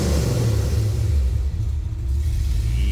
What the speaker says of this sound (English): Throttle response in this car.